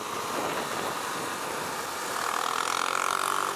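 Husqvarna Svartpilen 401 motorcycle engine running just after a downshift to fourth gear, a steady buzzing drone that grows slightly rougher and louder toward the end.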